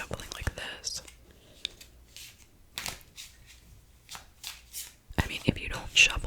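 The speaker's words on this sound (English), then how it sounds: "let me do some shuffling like this." Playing cards being shuffled by hand during a quiet card game, giving several soft, brushy riffling bursts with whispered voices between them.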